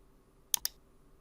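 Two quick, crisp computer mouse clicks in close succession, near and fairly quiet, in an otherwise silent room.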